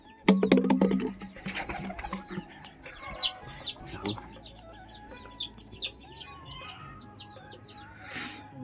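Pigeons in a coop on a hot rooftop, with soft cooing, fluttering wings and scattered clucking calls. Sharp clatters open the scene and a bird calls repeatedly over low background noise.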